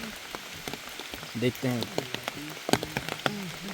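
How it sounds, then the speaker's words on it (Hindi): Heavy rain patters steadily on a surface, with scattered sharper drops, while a person speaks briefly in Hindi over it, in the jungle of Dudhwa National Park. "बारिश भी बहुत तेज़ है।"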